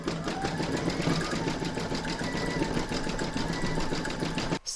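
An embroidery machine stitches an in-the-hoop stacked pumpkin, sewing the stalk in matching thread: a steady, close, rapid needle rhythm with a constant mechanical hum that runs alone and cuts off abruptly at the end.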